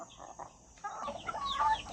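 Rhode Island Red heritage chickens on a farm at six in the morning during feeding and egg collection, giving soft clucks and murmurs close by with a rising burst of calls near the end.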